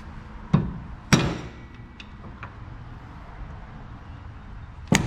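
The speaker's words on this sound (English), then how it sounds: "I'll angle my breaker bar, I'm sorry, not breaker bar, my pry bar like this, and just give it a couple taps with a hammer." A hammer tapping a pry bar angled against the rear wheel hub of a Honda Accord during a wheel bearing replacement, two sharp metallic strikes close together, a pause, then one more tap, over a steady background hum.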